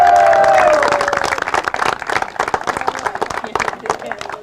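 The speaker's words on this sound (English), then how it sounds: "give him a big round of applause" A crowd at the Helsinki T20 Premier League 2017 cricket closing ceremony breaks into applause; brief voiced tones open the clip before thick, sustained clapping builds and carries on to the end.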